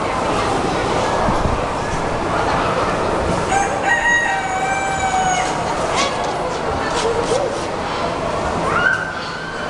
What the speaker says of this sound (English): There's your rooster in the morning.